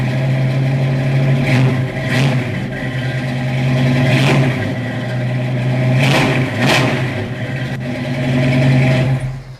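A car engine running close by, a steady rumbling idle lifted by several sharp revs spaced a couple of seconds apart, loud and alone with no talk.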